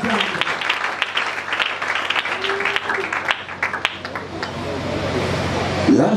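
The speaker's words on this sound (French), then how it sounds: "Acclamons très fort à vous." A church congregation at a sermon bursts into loud, sustained clapping that fills the room, with some voices and cheering mixed in under the applause.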